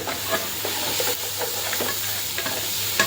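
Egg curry masala cooking in a pan, a continuous close sizzle with a low background hum and light, irregular stirring scrapes, with no talking.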